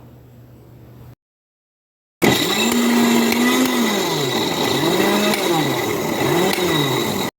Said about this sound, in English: I have my veggies washed, and we'll go ahead to blend.